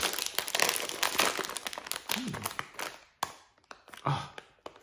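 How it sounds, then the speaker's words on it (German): Someone opens a 150-gram plastic bag of chocolate waffles up close, making dense crinkling and crackling with sharp snaps and rustles that run for several seconds, then thin out into scattered crackles. "In der Tüte sind 150 Gramm und ich mache sie jetzt mal direkt auf."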